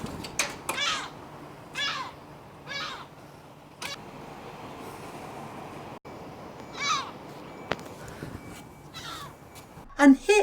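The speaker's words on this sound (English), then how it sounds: "here is a herring gull that was displaying baby begging behaviour towards me to encourage me to give it food" A herring gull gives begging calls on a rooftop in South Wales, a series of short, rising mewing cries repeated at irregular intervals, close and moderately loud over a faint background hum.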